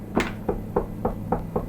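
Six evenly spaced knocks on wood, crisp and close, tapped out at a steady pace while flying around Key West.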